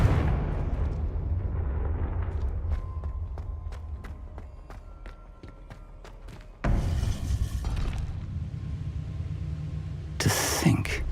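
A Confringo blasting-curse explosion in the game Hogwarts Legacy, a sudden loud blast partway through that follows a run of sharp clicking taps and a low rumble, with a second burst near the end.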